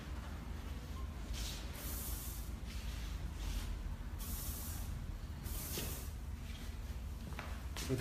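Hairspray hisses in several short bursts onto a short haircut being styled, each spray a close, airy blast separated by brief pauses over low room noise.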